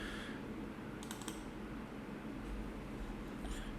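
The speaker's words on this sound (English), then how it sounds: "And type the last name." Quick, light keystrokes clatter steadily on a computer keyboard as a name is typed, close and fairly soft against a faint background hiss.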